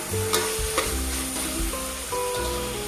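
Turmeric, coriander powder and garam masala fry on a high flame, a steady close sizzle broken by several sharp scraping stirs of a spoon against the pan, with no voices.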